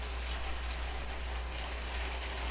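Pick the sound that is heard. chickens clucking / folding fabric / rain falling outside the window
rain falling outside the window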